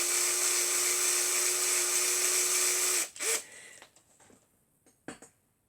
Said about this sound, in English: And when you start drilling them with the centre one, once the big one hits it, it basically spins it loose and out it comes.